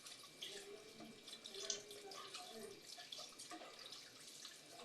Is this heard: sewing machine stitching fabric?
no